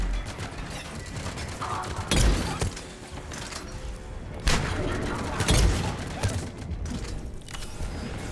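Crusader shotgun in Mass Effect 3 fires single slugs as a few loud, separate booming blasts over mechanical game noise, with a voice talking in between.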